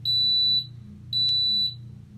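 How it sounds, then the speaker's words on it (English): A Waring bubble waffle maker sounds its done signal: two sharp, high electronic beeps about half a second long each, close and clear against a quiet kitchen hum. "So there's the beep, it's done."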